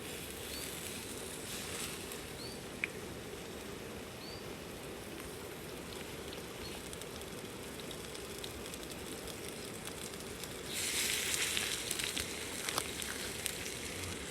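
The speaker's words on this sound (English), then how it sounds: "So that means we can start searing her up" Bacon-wrapped scallops sear on a camp stove outdoors in the alpine, giving a steady, even sizzle like light rain that runs unbroken, with a brighter burst of crackle near the end.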